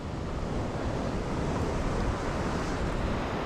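Ocean surf breaking on Huatulco beach in Mexico, a steady, close broadband wash of waves with wind rushing across the microphone throughout, no voices.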